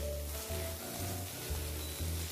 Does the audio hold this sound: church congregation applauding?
no